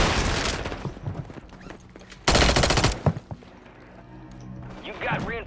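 Sniper gunfire in an online shooter video game: bursts of loud shots around the start and a sharp blast near two seconds, with more scattered shots and game noise as voices talk over it.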